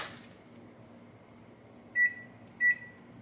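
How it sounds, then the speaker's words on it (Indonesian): An oven being set to bake for 40 minutes: two short, clear electronic beeps from the control panel, spaced about half a second apart, over a low steady hum. "Kita panggang 40 menit."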